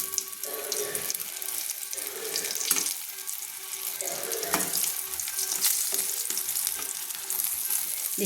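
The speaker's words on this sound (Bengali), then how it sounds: "আর আমি চাপা দিয়ে ভাজবো না, চাপা খুলেই ভেজে নিচ্ছি অপর পিঠটা" Eggplant slices frying in oil in an uncovered pan make a continuous close hissing sizzle that rises and falls in intensity, with light scraping and stirring noises throughout.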